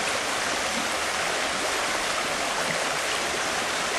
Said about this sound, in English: if I'm careful just to rinse the top material,